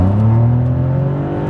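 A 2016 SEAT Ibiza 1.0 small engine revs up steadily, its droning tone rising in pitch as it accelerates toward 80, close and loud throughout.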